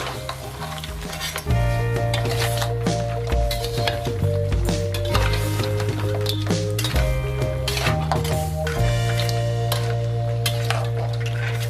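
Cracked brown crab pieces with ginger and spring onions stir-fried in a wok: a loud, close sizzle with clinking and shuffling of the pieces over a steady tonal hum, no talking.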